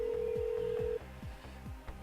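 A phone dials out in a Who Wants To Be A Millionaire game for the phone-a-friend lifeline: a steady tone, then quick rhythmic dialing pulses, alone and fairly quiet.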